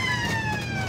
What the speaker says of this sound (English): You gotta have your siren.